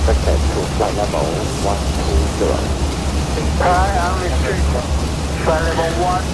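Rain beats steadily against the cockpit windows of an airliner approaching Hong Kong at night, a constant close hiss beneath low engine drone while crew members talk intermittently.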